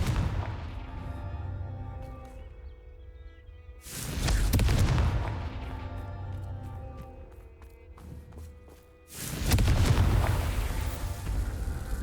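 Two loud fiery blasts from the Confringo fire spell in Hogwarts Legacy, each a sudden booming burst that rolls off over a couple of seconds, with quieter game ambience and music between them.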